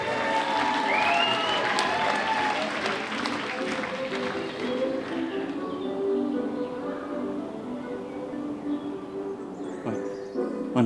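An audience at a play applauds, a dense patter of clapping with some crowd noise that starts strong and slowly thins and fades toward the end.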